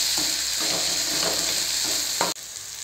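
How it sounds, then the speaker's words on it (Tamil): Cumin, pepper and chilli powder sautéing in a pan, a steady close sizzle with light stirring scrapes throughout, cut off abruptly near the end. "சீரகத்தூள், மிளகுத்தூள், மிளகாத்தூள் நல்லா வதக்கி விட்டுக்கலாம்."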